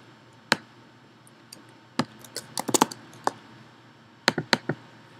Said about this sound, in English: actually come over here on the text and start typing